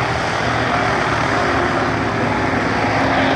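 A Catalina seaplane, a propeller aircraft, flies at the La Ferté-Alais air show. Its engines give a loud, steady roar that holds without a break from start to finish.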